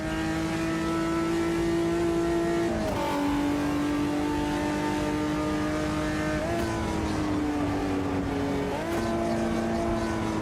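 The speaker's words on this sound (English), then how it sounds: "Changed to third way too early and didn't match revs." Mini Cooper engine revving hard with strong steady harmonics, dropping sharply at about three seconds as a gear change to third is made too early without matching revs, then climbing again with further dips; loud and close, no talk.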